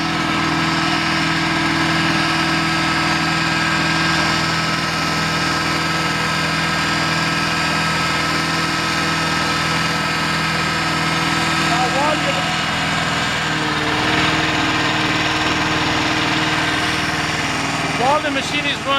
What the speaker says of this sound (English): Allow the unit to run without filter.